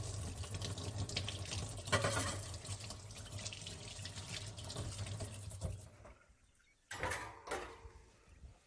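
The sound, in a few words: washing a whisk under running tap water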